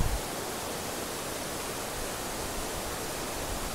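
Waterfalls at Juayua roar as a steady, dense rush of falling water, constant and fairly loud throughout with no other sounds standing out.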